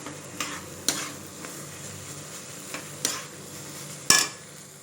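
Carrot halwa is stirred in a pan, a spoon scraping through the thick mixture in a few separate strokes, with one sharper scrape near the end over a faint steady sizzle.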